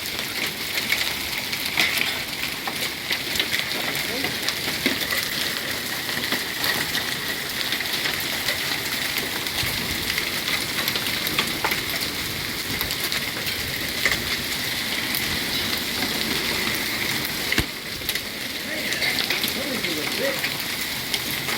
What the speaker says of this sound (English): Oh man, the hail's getting bigger.